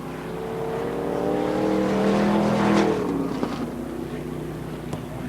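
NASCAR Winston Late Model race cars racing at Raven Raceway in 1987, a steady engine roar swelling and fading as cars pass, heard at a distance without talk.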